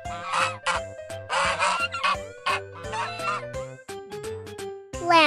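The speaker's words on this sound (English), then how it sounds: "Goose." A farm goose honks repeatedly, loud, close, harsh calls in an irregular series of bursts with short gaps, alone with no talking.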